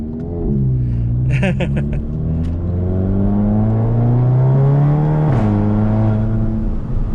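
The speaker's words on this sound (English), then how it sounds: "A little bit of turbo flutter there." A hybrid-turbo Volkswagen Golf GTI Mk7 with a DSG gearbox drones steadily, with a brief fluttering chatter from the turbo partway through, loud and close, as if heard from inside the cabin.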